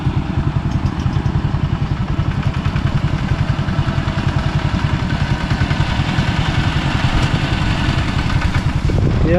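A motorcycle engine pulls steadily in third gear along a mountain track in Laos, giving a loud, close, continuous rapid-fire thrum with an even rhythm throughout.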